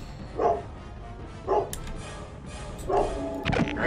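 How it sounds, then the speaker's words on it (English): A dog barks three times at a distance, spaced out irregularly, muffled over a steady low background hum. "I apologize for the dog barking."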